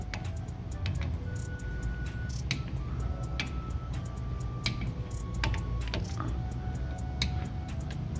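Torque wrench on the rear wheel bolts of a Chevy Silverado during a wheel bearing job, giving a series of sharp, irregular clicks over a steady low background hum, with no talking.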